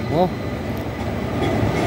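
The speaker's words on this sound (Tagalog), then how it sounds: "Ayan, may bagong dating na naman na tren." A train arrives near Florence's main station in Italy, heard from a nearby hotel as a steady, fairly loud rumble with a brief rising squeal of wheels near the start.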